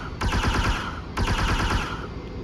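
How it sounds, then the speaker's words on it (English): An ARC-170 starfighter's ion cannon fires in a Star Wars video game: two loud bursts of rapid, rattling shots about a second apart, with no talking. "It is supposed to be an ion cannon."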